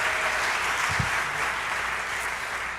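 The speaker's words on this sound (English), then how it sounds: "we can applaud for that" Church congregation applauding, a steady moderate wash of clapping heard from a distance, with a single thump partway through.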